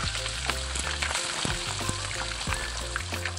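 Sweet sarsyadong sizzles and fries steadily in a pan, a dense continuous crackle with small pops and a low hum running beneath, close and fairly loud with no talking.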